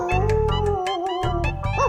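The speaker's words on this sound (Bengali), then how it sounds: "এই রে, এই কুকুর ডাকছে" Cartoon-style dog barking: a quick run of high, tonal yelps pulsing in rapid succession, close and fairly loud, with a rising whine at the end.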